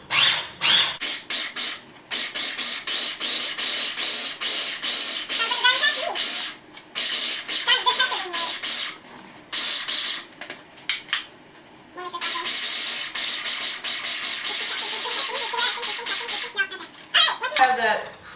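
A food processor grinding stale bread and Parmesan into pesto, loud whirring bursts that start and stop repeatedly with short pauses and squeaky pitch shifts as the blade spins.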